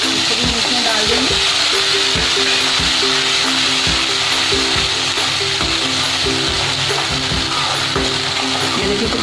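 A masala of ginger, garlic and green chili fries in a pan for tomato chutney, producing a loud, continuous sizzle with occasional stirring scrapes and faint tonal background music.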